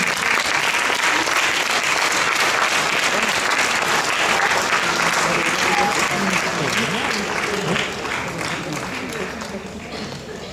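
Audience applause at a girls' Shakespeare competition final awards ceremony, a steady dense clapping across the hall that stays loud and fills the clip, then thins and fades somewhat toward the end, with some voices faintly mixed in.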